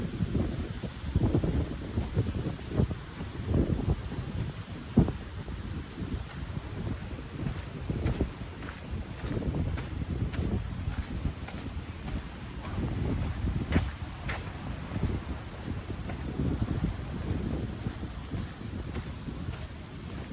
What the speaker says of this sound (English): Get away from that wind and that breeze.